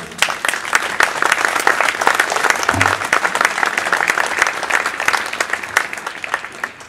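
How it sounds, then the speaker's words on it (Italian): An audience bursts into sustained applause at an outdoor town concert for the feast of San Bartolomeo, many hands clapping steadily and fairly close, with a brief low voice surfacing midway. "gli facciamo un bel applauso"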